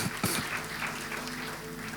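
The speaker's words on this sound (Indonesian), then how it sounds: "Berikan tepuk tangan kita kepada Tuhan kita." A church congregation claps during a worship service, a steady rolling applause with a few sharper bursts near the start and a faint tonal hum from the sanctuary underneath.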